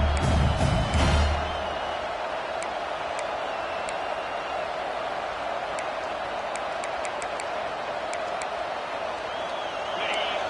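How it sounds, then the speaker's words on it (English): A stadium crowd at a football game roars full-throated in a sustained, dense wall of noise, with a loud burst at the start settling into a steady roar, whistles and shouts poking through. "This crowd, full throat, splitting the eardrums and letting them know it's going to be a long day"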